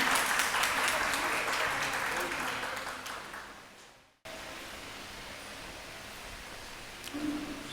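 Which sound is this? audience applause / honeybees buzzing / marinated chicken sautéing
audience applause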